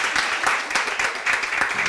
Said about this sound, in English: So I would love for you guys to give a round of applause